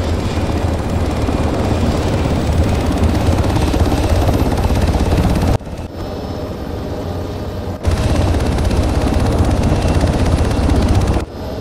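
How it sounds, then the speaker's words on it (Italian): Helicopter rotor and engine roar at a military simulation airsoft game, loud and steady, with brief dips in level partway through and no talk. "via via, tutti sull'elicottero per il blue team."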